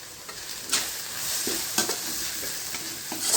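Onions and curry leaves sizzle steadily in a pan for a home-style fish curry, with a few sharp stirring scrapes of a spoon cutting through the constant frying hiss.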